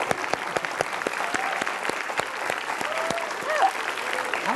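Audience applause fills the clip with dense, steady clapping from a crowd, while a few faint voices and whoops rise over it.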